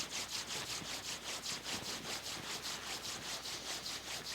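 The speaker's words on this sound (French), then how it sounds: "À nouveau, on frotte les mains." Palms rubbing briskly together during a qigong routine: a steady, close, breathy friction hiss pulsing in quick regular strokes, heard alone without talk.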